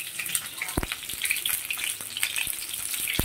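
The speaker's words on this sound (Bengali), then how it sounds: "আলুটা যদি ভেজে নিই এর মধ্যে" Potatoes for biryani fry in hot oil, hissing and crackling steadily up close, with a few sharp clicks of a utensil against the pan.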